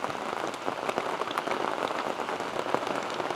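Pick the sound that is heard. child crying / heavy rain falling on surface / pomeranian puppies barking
heavy rain falling on surface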